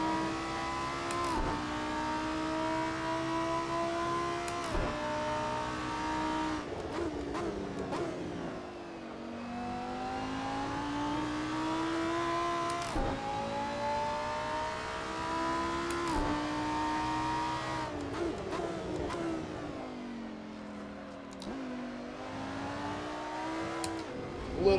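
A Lamborghini Super Trofeo race car at Donington Park in a sim racing game revs hard through repeated gear changes, its engine pitch climbing and dropping steadily with close, loud continuous drone.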